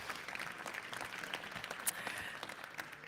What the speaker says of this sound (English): let's give a final round of applause to our VIPs who joined us today